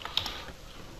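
Quick keystrokes on a computer keyboard while a paragraph is entered, a few sharp clicks early on and then a soft, steady patter fading into light room noise.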